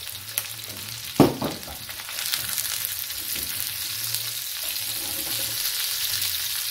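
Onion tossed into a pan with browned chicken breast pieces, a sharp thud and hiss as it lands, then a steady, building sizzle with light stirring, close by.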